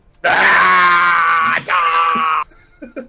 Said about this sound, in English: He has to scream to will the bullets into people.